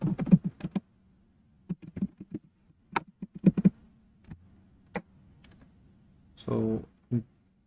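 Keys tapped on a computer keyboard while entering a password, in irregular bursts of quick clicks separated by pauses, close and clear over a low steady hum.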